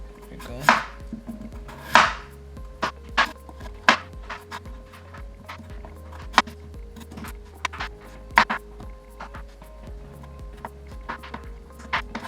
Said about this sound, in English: let's go ahead and cut these into some small cubes